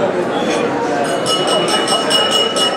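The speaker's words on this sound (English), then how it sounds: "Let's get some glasses clinking" Glasses clinking at a banquet hall: repeated bright, ringing taps of glass sounding in a loose rhythm over a busy murmur of crowd voices.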